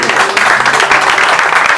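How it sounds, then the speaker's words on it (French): An audience at a poetry evening applauds Koutchev, loud, steady crowd clapping filling the whole short stretch with no gaps. "on applaudit s'il vous plaît Koutchev d'avoir commencé"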